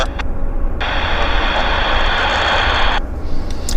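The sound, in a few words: airplane taking off from wet runway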